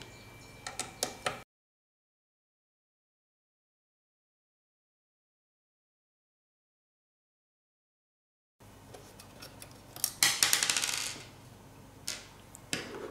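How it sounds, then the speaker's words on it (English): A screwdriver removes T9 screws from the side of an Xbox One X console, giving small close metallic clicks and rattles, then a long dead-silent gap before busier clicking and handling noise returns. "on the side of the unit, you have three T9 screws you need to remove"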